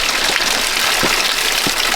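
A small waterfall gushes steadily close by on a hiking trail, a continuous broadband rush of falling water with no talking over it.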